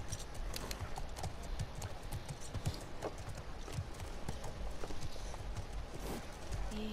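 Hooves clip-clop at a steady walking rhythm as a horse moves in The Last of Us Part II, loud and close, with ambient game sounds behind.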